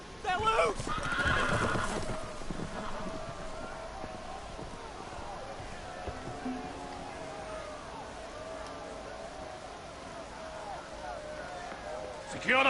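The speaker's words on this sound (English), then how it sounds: "The horses! They're loose!" Horses whinny loudly at the start and hooves clatter as loose animals run about, with voices shouting over the commotion and a steady rumble of movement continuing throughout.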